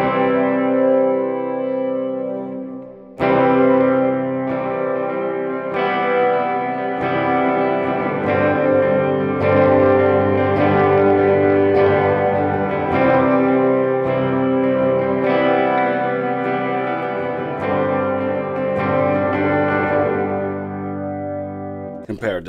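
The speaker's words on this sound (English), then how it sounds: "This is a hall reverb, and I'll turn up the decay time" Electric guitar through a hall reverb pedal with the decay turned up, sustained chords ringing into a long, washy tail that fills the space after a short pause and restart.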